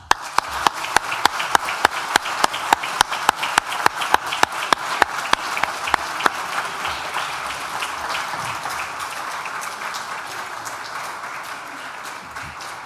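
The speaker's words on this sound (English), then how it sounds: "Please join me in giving a round of applause to our parents, partners, families, friends, and children" Applause from a graduation ceremony audience in a hall, with loud, sharp rhythmic claps close by leading the first half before the sound settles into broad, even clapping from the crowd that slowly fades.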